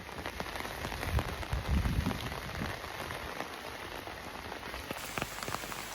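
Steady rain patters down along the Appalachian Trail as a constant, even hiss of drops striking the surface nearby, with no voices.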